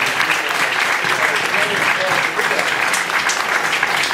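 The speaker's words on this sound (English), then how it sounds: "round of applause, please" Loud, sustained applause from a film festival audience at a post-screening Q&A, dense clapping that holds steady throughout with faint crowd voices beneath.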